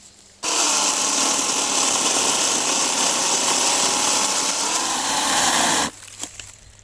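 An AL-KO CS 1825 cordless battery chainsaw cuts through a thick log of firewood with a loud, steady whine that runs unbroken for about five seconds, then stops abruptly.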